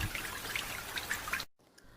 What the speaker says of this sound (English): The water is being collected in the underground tank for future use.